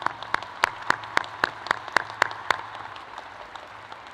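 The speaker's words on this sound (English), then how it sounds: "Yes, let's give them a round of applause." At a commencement ceremony, a few sharp, evenly spaced claps ring out near and loud against a quiet hall, roughly three per second, and fade out over the last second.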